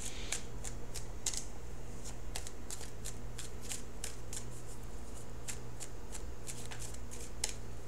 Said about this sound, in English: So let's shuffle for the outcome card.